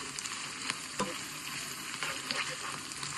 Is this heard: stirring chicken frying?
yes